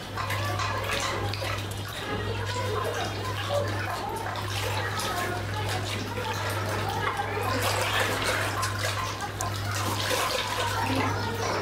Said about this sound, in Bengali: আমি খুব ভালোভাবেই পানিতে পটাশ গুলাচ্ছি।